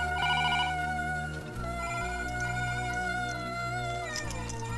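A telephone rings on and on with no one answering, its bright repeating electronic ring loud and close over a dense backdrop of sustained tones.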